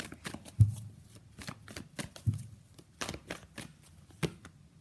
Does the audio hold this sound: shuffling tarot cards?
yes